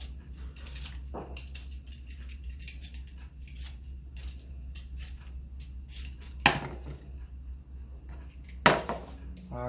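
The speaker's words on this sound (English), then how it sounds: "Well, I'm gonna cut it down a little bit." A knife cuts down through an Idaho potato in a quiet kitchen, with soft intermittent scraping and two sharp clicks of the blade against a hard surface, over a low steady hum.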